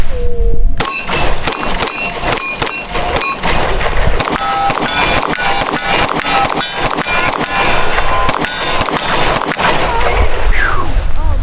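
Repeated sharp gunshots from a Ruger RXM pistol loaded with full-size Magpul magazines, fired in quick irregular strings at close range, loud and percussive with ringing clangs between shots.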